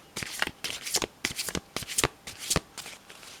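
Playing cards being shuffled by hand, a steady series of crisp riffling bursts in a quick regular rhythm, close and clear with no talking over them.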